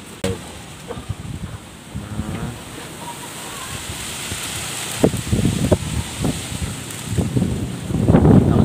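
Strong wind buffets the microphone in a steady roar at General Trias City Park, with scattered low thumps and bursts of gusting noise building toward the end.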